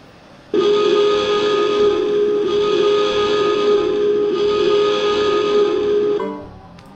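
Steam train whistle from the Sierra logo intro of the Half-Life video game, one long sustained loud blast with a steady tonal wail over hiss, ending with a brief fade.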